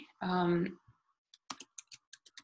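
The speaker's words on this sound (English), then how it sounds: "I'm typing them here so you guys can write them down." A computer keyboard is typed on in a quick run of light, close clicks following a short spoken word.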